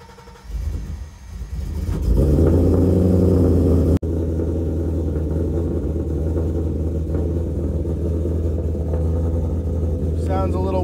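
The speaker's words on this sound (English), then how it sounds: "the car made a funny noise when I first started it" A Ford 5.0 car engine turns over and catches, then settles into a steady, loud running hum with a low rumble for several seconds.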